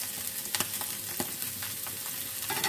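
Chicken pieces with mixed vegetables and cabbage fry in hot oil, a close, even sizzle broken by sharp crackles and pops, with no talking.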